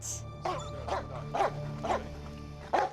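A police dog barks in a series of five sharp, loud barks spaced about half a second apart during a bite test on a bedliner-coated jacket, over a steady low hum.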